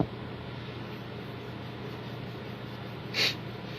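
A single short, sharp sniffle from someone with allergies comes near the end, standing out over a steady low background hum.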